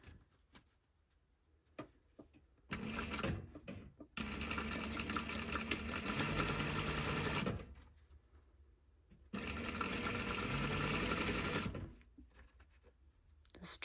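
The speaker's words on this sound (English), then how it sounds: "I'm really just sewing down that fold line" Sewing machine stitching a French bias binding seam along a fold line, running in two long continuous bursts of fast whirring and needle clatter separated by quiet pauses with a few small clicks.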